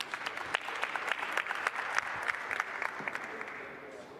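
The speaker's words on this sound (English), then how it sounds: "So if we can get a round of applause for this announcement that was just made today." Audience applause at a live MENA Climate Week broadcast session, a fairly faint, steady patter of clapping with sharper individual claps throughout, heard from a distance.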